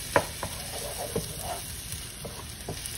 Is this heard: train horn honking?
no